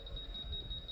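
A construction alignment detector used to set square on a structural base gives a continuous high electronic beep, steady and moderately loud over faint low background noise.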